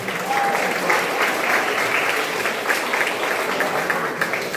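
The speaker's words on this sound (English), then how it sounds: "big round of applause" An audience applauds a young cricket bowler who took 13 or 14 wickets. The clapping is steady and dense and fills the whole stretch at moderate volume, with a brief tonal squeak early on.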